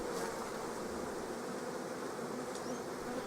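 Dense, steady buzzing of many honeybees at nucleus hives fills the space up close, a continuous hum with no voices.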